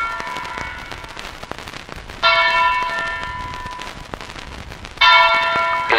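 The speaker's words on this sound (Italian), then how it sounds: "Le campane, le tristi campane fanno da colonna sonora all'ultimo giro di campo dei ragazzi" Church bells toll slowly and mournfully in Turin at a football team's funeral, two loud ringing strikes that each hang and decay over a soft crowd and rain-like background wash.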